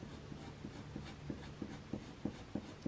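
Albrecht Dürer colouring pencil shading on paper, quiet close-up scratchy strokes that repeat in a steady back-and-forth rhythm with no talk.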